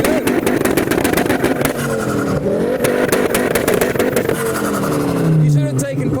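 Several boy racer cars at a street takeover rev-off on England's largest island rev their engines loudly and close by in repeated bursts, with rising and falling pitch, while people talk and call out over the noise.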